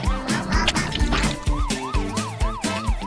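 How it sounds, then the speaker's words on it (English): Toy ambulance siren blares in a rapid, repeating wail with pulsing rhythmic beats underneath, loud and close with no talk over it. "Come on, Jax, blast those sirens"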